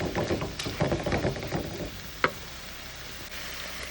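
Tomatoes sautéing in a pan for brinjal chutney crackle and sizzle with busy stirring scrapes over the first two seconds, then the sound thins to a soft hiss broken by one clear utensil clack.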